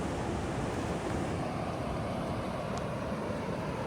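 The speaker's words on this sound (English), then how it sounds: "as I'm sure you can hear, this waterfall is ripping" Pedernales Falls running high after heavy rain, about 86 cubic feet of water per second, roars in a loud, steady rush of water that fills the scene without a break and with no voices.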